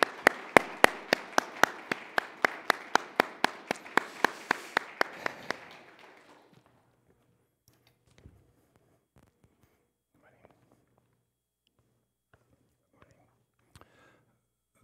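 A church congregation claps to welcome the pastor: a steady, evenly spaced run of about twenty crisp claps, loud and close, then it stops and near-silence follows with a few faint knocks.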